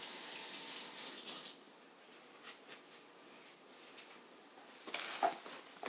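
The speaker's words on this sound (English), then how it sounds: "Got washing my hands." Tap water runs in a quiet, steady hiss as hands are washed under it, with light splashing and patter that gets louder near the end.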